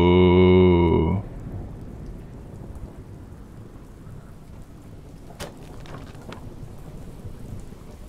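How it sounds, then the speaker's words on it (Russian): Steady heavy rain in the PC horror game In Silence hisses throughout, with a brief loud harmonic tone at the very start and a few sharp crackles of thunder later. "А чё дождь пошел такой громкий?"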